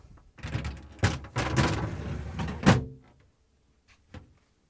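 A crisper drawer in a Samsung refrigerator slides back in on its rail assembly, a rolling plastic rumble with a few thunks, ending in a firm bump and then a small tap in the quiet.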